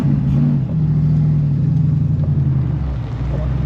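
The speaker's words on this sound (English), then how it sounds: "we're in the Mustang going for a ride" Inside a moving 1968 Ford Mustang, the engine's deep, loud rumble fills the cabin and swells slightly as it revs under way.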